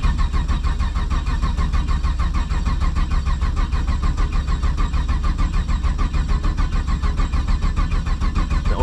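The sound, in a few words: Ford Mustang engine cold start cranking with thick oil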